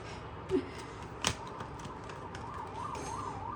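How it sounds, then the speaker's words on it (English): A faint, distant siren wails up and down in the background, preceded by a couple of brief clicks in an otherwise quiet room. "There's a siren."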